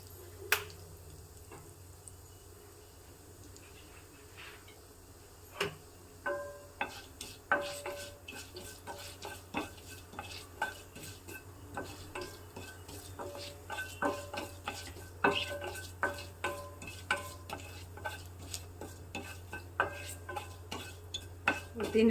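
Urad dal and asafoetida crackling in hot oil with mustard seeds in a tempering, a steady run of sharp pops and spits over a low hum, growing busier partway through.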